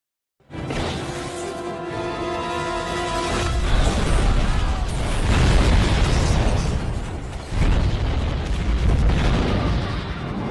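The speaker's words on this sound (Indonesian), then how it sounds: "Lee langsung menghujaninya dengan tembakan dengan diiringi Barney yang menjatuhkan bahan bakar kemudian meledakkannya." Film explosion of fuel dropped at a harbor amid gunfire, a sudden loud blast followed by a long rolling roar with renewed bursts and crackling, heavy low rumble throughout and no talk.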